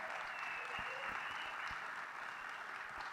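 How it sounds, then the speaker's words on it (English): Banquet guests at a high school Hall of Fame ceremony give a round of applause, an even, continuous patter of many hands filling the room, with a few low thumps underneath. "That deserves a round of applause."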